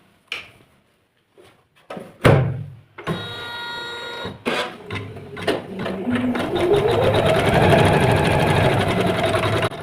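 Usha 450e embroidery sewing machine: a few sharp clicks and knocks as it is set up, then the motor starts and runs steadily up close, its mechanical whir rising in pitch and holding a fast, even stitching rattle.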